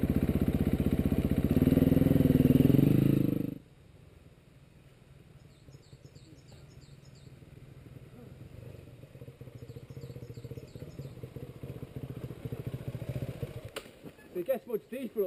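A motorcycle engine idles close by at first with a steady throbbing rumble, then cuts out, leaving a quieter low engine murmur and faint bird chirps, with people talking nearby.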